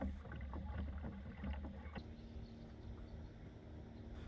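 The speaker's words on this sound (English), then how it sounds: "We'll paddle our way to shore and then make our way back to camp." A kayak paddles across lake water, with faint rhythmic paddle swishes and water noise under a low wind rumble that turns steadier midway.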